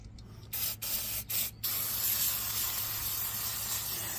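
Penetrant sprayed from an aerosol can onto a lawn mower during an oil and blade change, giving a steady close hiss that breaks into a few short bursts before running continuously.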